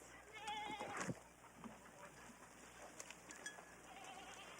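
Goats, part of a herd of about 250 kept for fire-prevention vegetation clearance, bleat a few times in a backyard or field, with low outdoor background noise and faint voices.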